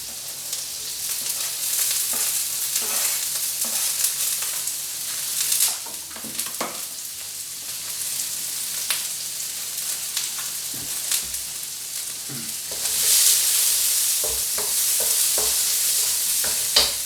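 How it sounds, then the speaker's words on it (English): Onion and mushrooms stir-fry in a wok for special fried rice, a steady hissing sizzle with frequent scraping stir strokes and a louder surge near the end, with no voices. "I usually just give the onion and the mushrooms another bit of time."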